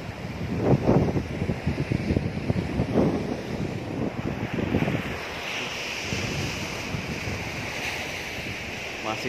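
Ocean waves wash steadily onto Pangi Beach in Blitar, Indonesia, with gusty wind buffeting the microphone and louder surges early on before settling into a softer rush.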